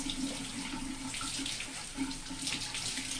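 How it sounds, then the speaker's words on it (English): Tap water running steadily into a sink while dyed fabric is rinsed, a constant close hiss and splash with slight fluctuations as the cloth moves under the stream. "But we will just go and rinse this out"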